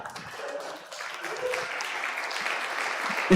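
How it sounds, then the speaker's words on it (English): A congregation applauds at an annual budget meeting, a steady wash of many hands clapping at moderate distance that builds slightly toward the end, with faint voices underneath. "Now you can clap."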